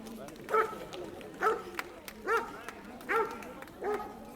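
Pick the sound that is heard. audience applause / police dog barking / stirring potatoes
police dog barking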